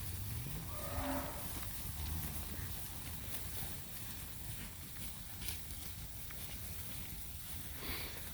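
Cattle grazing on tall clover and grass in a pasture give a low moo early on, set against steady outdoor background noise with no clear speech.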